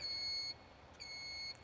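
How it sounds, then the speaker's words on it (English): A fire alarm on an HPH TwinShark boat running its test, giving two steady electronic beeps about half a second long with a short gap between them, clear and alone over faint background hiss. "Here on top we have the fire alarm test,"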